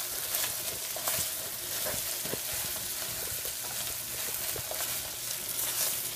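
Butter melting with rice and sesame oil in a hot pan for a Japanese-style stir fry gives a steady, dense sizzle and crackle with occasional stirring scrapes, close and continuous with no voices.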